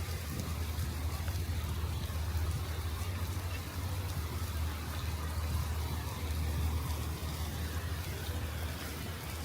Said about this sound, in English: All right, rain.